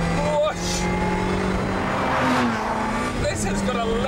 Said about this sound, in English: You just tap the throttle and whoosh.